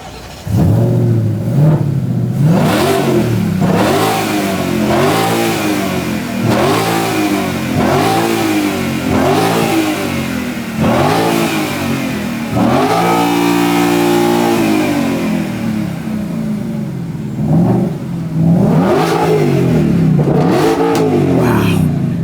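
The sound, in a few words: Ford Mustang GTD engine starting and revving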